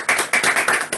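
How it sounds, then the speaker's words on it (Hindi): A worship congregation clapping loudly in praise at a Sunday service, with quick, brisk rounds of hand claps pulsing in a rapid rhythm, close and loud. "एक जोरदार ताली अपने अपने घरों में क्यों ना बजाए परमेश्वर के लिए"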